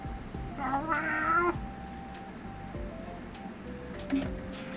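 A house cat meows close by, a drawn-out wavering cry followed by shorter chirps, over a quiet room with faint ticking clicks.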